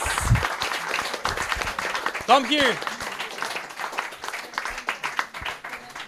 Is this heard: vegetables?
no